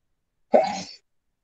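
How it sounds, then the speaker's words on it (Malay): One short, abrupt sneeze bursts out close and fairly loud, lasting about half a second and set against silence. "Lama tak bersin, Ustaz."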